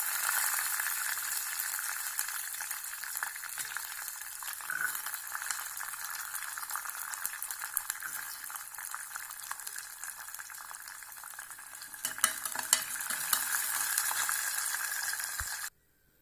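Garlic sizzles in hot oil in a pan for poondu rice, giving a steady, dense crackle that holds for about fifteen seconds. A few scraping stirs come near the end, and then the sound stops suddenly.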